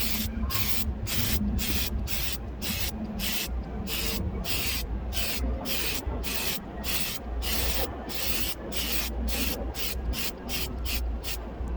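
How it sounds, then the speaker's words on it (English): Rapid, evenly spaced bursts of spray paint hiss steadily as thick coats go onto an RC drift car body, loud and close with no one talking. "Get some final coats. But this time we're gonna do it in a deliberate manner."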